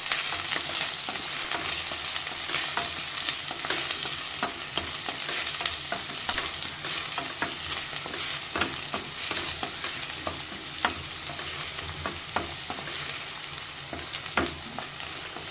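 Sliced onion sautés in hot oil in a pan for vegetable pulao, a steady sizzle with frequent stirring scrapes throughout, close and with no talking.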